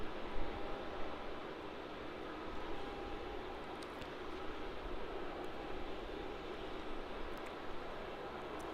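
Air New Zealand airliner taxiing into Terminal 2 at Melbourne Airport after arriving from Auckland, a steady broad engine roar held at a moderate distance and unbroken throughout, with no voices.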